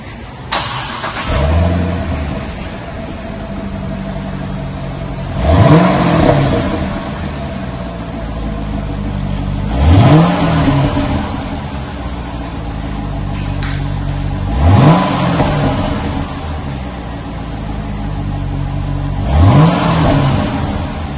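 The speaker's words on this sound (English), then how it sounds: "Let's see what it sounds like before we change it out." A 2008 Corvette on its stock exhaust with factory H-pipe idles with a deep, steady burble, broken by four sharp revs spaced about every five seconds, each rising and falling quickly, close and loud.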